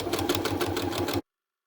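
A sewing machine stitches a scrap-fabric coaster in one rapid, rhythmic burst of needle clatter lasting about a second before it stops abruptly into silence.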